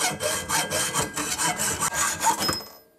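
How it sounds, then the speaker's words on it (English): A handsaw cuts through threaded steel rod in quick, regular rasping strokes, about a dozen close back-and-forth passes before the cutting stops. "I cut my rod in half and I'll cut each section from that."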